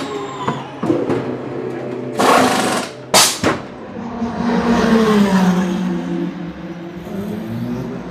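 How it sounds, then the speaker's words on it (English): A Lamborghini race car pit stop in the team garage brings sharp bursts of pneumatic wheel guns and clattering equipment, then a loud engine drone and rev that carries on to the end, close by. "So we're inside the Lamborghini garage, and they're about to do a pit stop."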